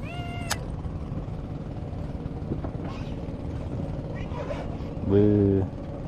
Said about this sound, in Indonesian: di keramba ada kucing